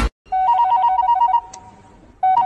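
A telephone bell rings in a comedy skit, a steady warbling trill repeating for about a second, pausing, then starting again at the end, loud and close with no talk over it.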